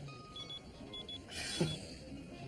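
A pager beeper goes off with a thin, steady electronic tone pulsing in short repeated beeps over a quiet indoor room, with a brief louder rustle near the end.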